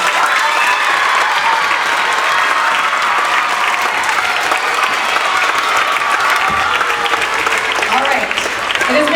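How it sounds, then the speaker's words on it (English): Sustained audience applause at an elementary school spring concert, steady and dense clapping filling the room for the whole stretch, with a few voices and cheers mixed in. "Round of applause for everybody again."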